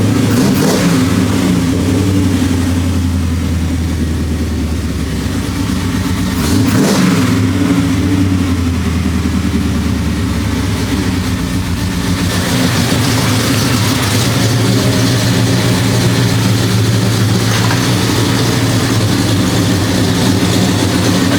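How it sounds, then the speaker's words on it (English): A 406 small-block Chevy V8 in a 1973 Impala runs steadily after repairs, a loud, continuous low idle rumble with a brief swell of revs partway through and no voices over it. "having this thing fired up. And so far it seems like it's running smooth."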